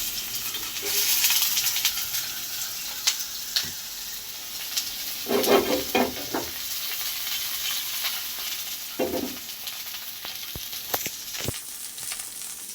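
Tomatoes fry in a hot pan with a steady hiss and sizzle, broken by louder crackling spurts and occasional stirring clicks and knocks.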